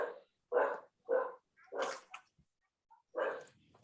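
A dog barks in several sharp, separate woofs, fairly close and alone, with a short gap before a final bark.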